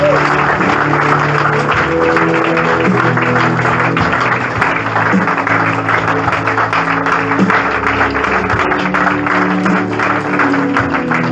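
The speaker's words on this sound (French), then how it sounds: "Dis Amen, et acclame le Seigneur." A worship congregation at a deliverance and prophecy service claps steadily and loudly, with sustained music underneath and a faint crowd murmur throughout.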